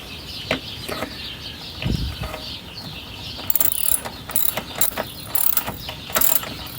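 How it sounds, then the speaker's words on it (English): Ratchet wrench with an 11 mm socket snugging a bolt on a 1997 Ford Ranger XL 2.3L, giving short bursts of quiet metallic clicking separated by pauses and small knocks. "I'll put the number 11 millimeter socket back on it too and tighten it snug"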